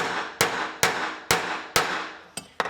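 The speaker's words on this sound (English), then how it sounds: "we're just going to take the hammer and we're just going to kind of flatten it out on this side" A blacksmith's hammer flattens hot steel for tongs on an anvil, with six sharp, ringing metallic strikes at a steady pace, close and loud, each decaying quickly before the next.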